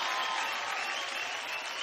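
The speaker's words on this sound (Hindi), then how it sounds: "एक बार जोरदार तालियां पनवेलकर के लिए।" Audience applause and cheering for a dance performer on a televised dance show, a dense steady wash of clapping from a crowd lasting the whole moment.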